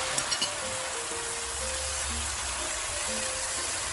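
Mixed vegetables frying in a wok after a spoonful of soy sauce goes in, giving a soft, even sizzle with a few faint scrapes, fairly quiet and without voices.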